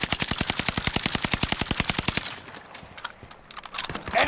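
Rapid automatic gunfire in a shooter video game rattles out in a steady, fast stream of close shots for about two seconds, then breaks into scattered single shots and distant pops.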